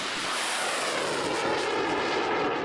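A fighter jet roars past in a simulated missile attack scenario, a loud, steady broadband engine rush sustained throughout with no voices.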